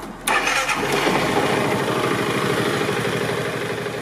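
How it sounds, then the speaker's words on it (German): A Piaggio MP3 500 Sport scooter engine cranks and fires after a brief pause, then settles into a steady, close, rumbling idle that carries on without talk. "Und lässt den Motor dann richtig warm laufen danach."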